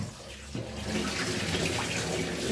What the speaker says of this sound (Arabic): هنزل عليها الميه نديها غسله كمان